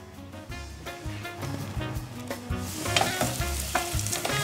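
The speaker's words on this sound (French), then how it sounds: "Alors j'ai gardé un peu de graisse de canard que je vais déposer dans une casserole. Et je fais revenir mes carottes dedans." Carrots fry in duck fat in a saucepan, with a steady sizzle and intermittent stirring scrapes that grow louder and brighter toward the end, close up, with no talking.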